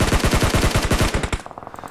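Video game PUBG Mobile gunfire: a loud, rapid automatic burst of about a dozen evenly spaced shots that stops abruptly, followed by faint tail-off clicks and no talking.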